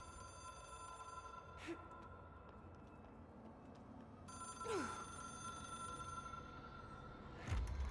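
A phone rings in the video game Control, a soft repeating electronic bell tone under steady ambient hum, with a louder burst near the end.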